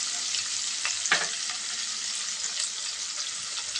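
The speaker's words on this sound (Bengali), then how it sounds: "আদা কাঁচা লঙ্কাটাকে একটু ভেজে নেব।" Ginger and green chilli frying in a pan over a low gas flame, a steady close sizzle with a few soft stirring scrapes and no voices.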